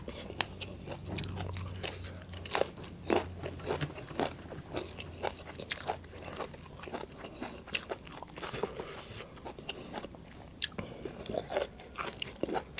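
Crunchy chewing and biting of Thai spicy raw shrimp salad with young bamboo shoots, a steady run of close, sharp crunches alone with no talk.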